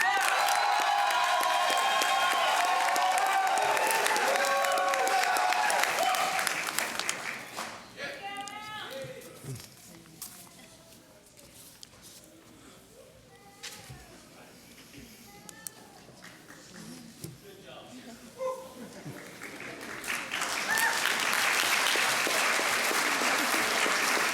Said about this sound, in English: One more round of applause for our undergraduate BSN students.